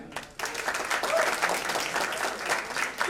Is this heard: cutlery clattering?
no